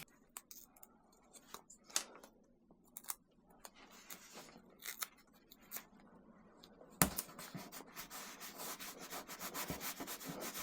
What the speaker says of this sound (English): let's cut one more little piece